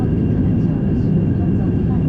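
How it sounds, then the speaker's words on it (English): Inside the cabin of a Lufthansa Airbus A321-200 in flight, a loud, steady low roar of engine and airflow noise fills the space without letup. "Noise levels are very manageable in the Airbus, much quieter than the 737 NGs."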